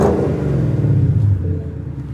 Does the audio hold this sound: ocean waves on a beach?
no